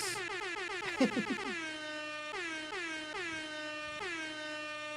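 A loud air horn blares a sustained, brassy chord, then a few more sharp repeated blasts follow with no voices over them.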